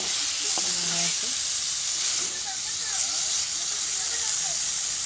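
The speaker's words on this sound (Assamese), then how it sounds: "ভাজি থোৱা মাছখিনি দিলোঁ এনেকৈ লৰাই আছোঁ" Fried small fish stirred into spice masala in a pan, giving a steady loud sizzle and hiss throughout, with occasional scraping of the stirring.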